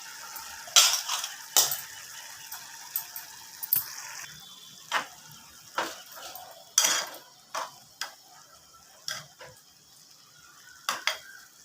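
Pressure-cooked chana dal is tipped into a boiling pot of snake gourd kootu and stirred. A spoon scrapes and clinks against the pot in a dozen irregular strikes over a soft bubbling hiss, close up, with no talking.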